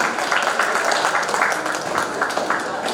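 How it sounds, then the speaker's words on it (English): Audience applause at a college IT fest award ceremony, a dense, continuous wash of clapping from a large crowd, loud and even throughout with a murmur of voices mixed in. "Let's have a huge round of applause for them."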